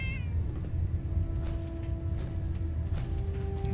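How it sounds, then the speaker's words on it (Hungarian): A cat meows in Fallout 4, a couple of clear, drawn-out mews heard nearby over a steady game background hum, without talking. "Macska."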